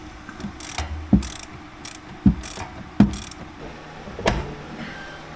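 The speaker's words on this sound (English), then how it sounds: "you're going to need a 13 millimeter wrench and a 13 millimeter socket" A 13 mm wrench and socket tighten bolts during an overlanding build on a Segway Villain: a few sharp metallic clicks and knocks spaced about a second apart, close and fairly loud against a quiet background.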